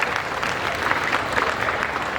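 An audience at a student event claps together in a brief, steady burst of close, even applause with no voices over it.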